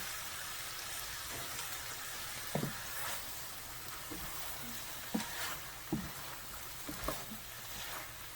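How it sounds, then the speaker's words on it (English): Fajita vegetables sizzle steadily in a hot frying pan, a continuous crackling hiss with occasional soft clicks of stirring. "Here's that sizzle."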